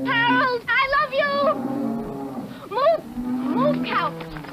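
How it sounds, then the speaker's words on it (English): Cattle mooing loudly and close, several drawn-out bellowing moos in succession with short gaps between them, heard alone. "Move, cow!"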